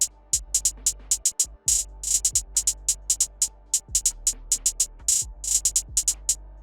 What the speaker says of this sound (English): It's just classic hi-hat.